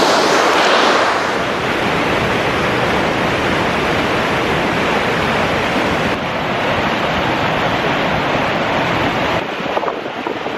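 Whitewater rapids of the Gave du Brousset, a Pyrenean mountain river, roar in a loud, continuous broadband rush close by, with wind buffeting the microphone and no voices over the churning water.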